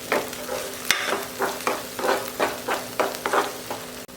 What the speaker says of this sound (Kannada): ಇದನ್ನು ತುಪ್ಪದಲ್ಲಿ ಚೆನ್ನಾಗಿ ಹುರಿಬೇಕು